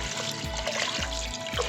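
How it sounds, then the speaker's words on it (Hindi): Water poured into a cooking pot for beef yakhni pulao makes a brief, continuous, close splashing trickle. "और इसके अंदर मैं 8 कप पानी ऐड कर दूँगी"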